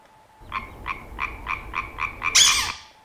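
A frog croaking about seven times in an even rhythm, close and clear, played as a sound to guess, ending in a louder burst.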